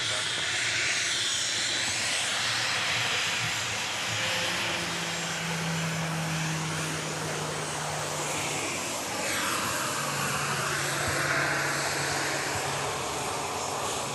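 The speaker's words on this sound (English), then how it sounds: "Randy Bucksbaum says, nice to see Southwest flying." A Southwest airliner at Dallas Love Field gives off a steady, loud jet roar and hiss that holds for the whole stretch, with the engine tone swelling and easing slightly but never stopping.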